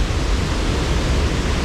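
A waterfall in an Ohio gorge rushes in a steady, loud, broadband roar with no break and no voices.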